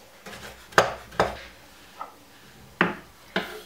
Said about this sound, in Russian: Теперь также тоненько нарежу курагу